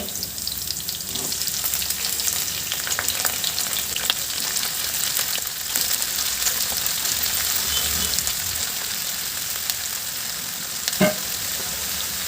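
Chopped brinjal for a curry frying in a pan on a low flame, a steady close sizzle running throughout with occasional scrapes and stirs, no talking.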